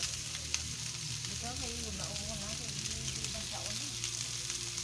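Balbacua ingredients sautéing in a hot pan, a steady close sizzle and fry hiss running throughout with light stirring, while faint background voices and other noise sit low under it.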